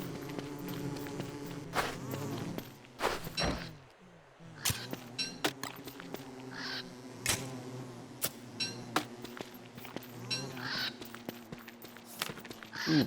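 Bees buzz steadily in a video game world, a continuous insect drone with many sharp clicks and blips from the game on top, running throughout without talk.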